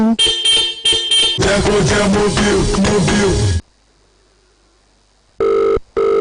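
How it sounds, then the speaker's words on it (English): A telephone rings loudly with a tonal ringtone in repeated bursts for several seconds, goes quiet, then gives a couple more short rings. "Olumide, why you dey answer the phone now"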